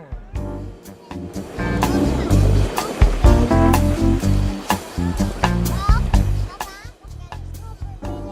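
Ocean surf breaking around coral reef islands, rolling washes of waves with mixed surrounding noise and children's voices in the background.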